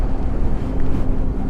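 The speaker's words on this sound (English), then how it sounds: "The wind is high." Strong wind roars across a frozen lakeside break wall, a loud, continuous buffeting rush battering the microphone with no pauses.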